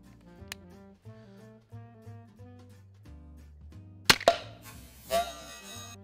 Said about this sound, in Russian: Ну и давайте сразу с бродхедом выстрелим